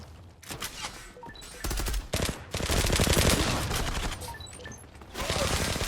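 Automatic weapon fire in the online shooter game Zula, with loud, rapid bursts of machine-gun shots, some sustained and some broken into short volleys, close and dense with no talk over them.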